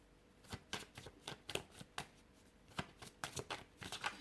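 Tarot cards being shuffled and handled close by: quick successive papery flicks and slaps in uneven bursts, soft but crisp in a quiet room, with no talking.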